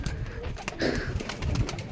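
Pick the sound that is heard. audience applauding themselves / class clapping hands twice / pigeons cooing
pigeons cooing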